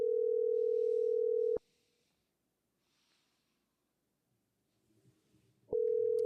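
A telephone call rings out while waiting for an answer: a loud, steady ringback tone that stops, a quiet gap with faint breathing, then the tone returns.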